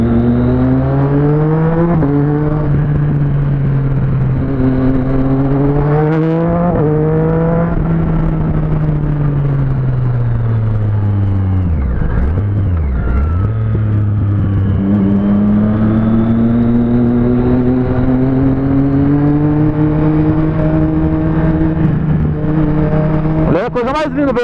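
Motorcycle engines, a Honda Hornet, Yamaha Fazer and a cafe racer, hold a loud, steady drone with rising and falling revs, one sharp dip and swell midway, under occasional voices.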